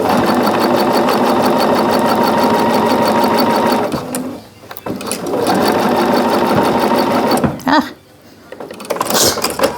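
A Bernina sewing machine stitches a seam on an economy quilt block, whirring loudly and close in long continuous runs broken by two short stops.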